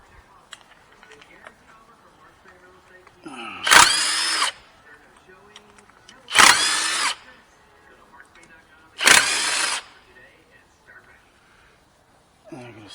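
Power tool spinning off 15 mm bolts on the front axle of a third-generation Chevy Silverado, three loud one-second bursts spaced a few seconds apart, with quiet clatter and faint talk between.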